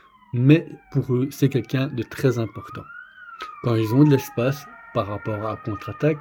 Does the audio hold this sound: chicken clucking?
no